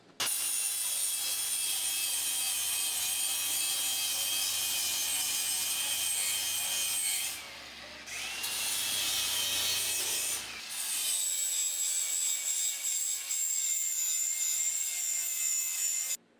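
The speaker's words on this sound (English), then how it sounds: "So the next step will be to grind down these edges all around here on both sides." An angle grinder works the steel edges of a Jeep WJ hidden winch bumper, a loud, sustained high-pitched whine and rasp with two brief dips where the tool eases off.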